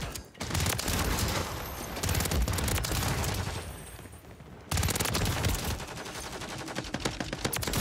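Rapid bursts of automatic fire from the WSP Swarm in Modern Warfare III, dense fusillades of gunshots in quick succession with a short lull midway before firing resumes, loud and close with no talking.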